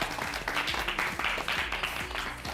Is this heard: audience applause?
yes